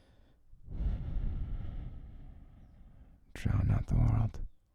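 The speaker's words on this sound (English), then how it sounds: "So just listen to my breathing." A man's slow, close breathing at bedtime, long soft exhales and inhales near the microphone, ending in a couple of louder, sharper breaths.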